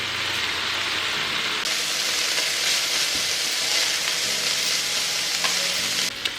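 Meat sears in hot oil in a pan for a Korean steak sandwich, a dense continuous sizzle heard up close, steady and loud without pause.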